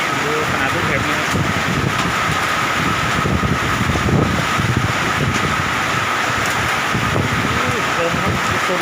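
Strong, gusting wind roars through a hailstorm in Kham Cha-i, Mukdahan, with rain hissing beneath it, a loud, continuous rumble that swells and buffets the microphone.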